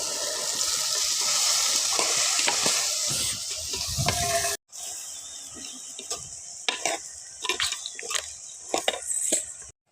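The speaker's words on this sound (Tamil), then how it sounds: "தக்காளி பழம் நல்லா வதங்கிட்டு சுண்டைக்காயை போட்டுக்கலாம்." Tomatoes and turkey berries sautéing in a pan give a steady close sizzle, broken by a sharp cut midway, then a quieter hiss with scattered stirring clatters against the pan.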